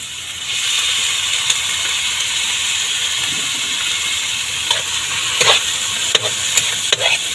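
Snails (suso) in a pan with garlic, stirred while they fry: a steady, close sizzle with scraping and clicking spoon strokes that grow more frequent toward the end.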